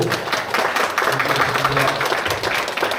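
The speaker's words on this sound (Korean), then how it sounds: "여러분 큰 박수로" An audience of temple-stay pilgrims applauds at Beopjusa temple, a dense burst of clapping from many people with a voice mixed in underneath.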